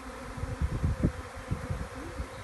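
A collected honeybee swarm fans and buzzes close by, a dense, steady hum with pulsing low thrums from many wings.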